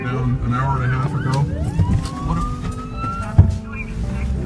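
An ambulance siren passes near a wildfire in Santa Rosa, California, its wailing tone sweeping upward and holding over rumbling traffic and wind, while people talk nearby.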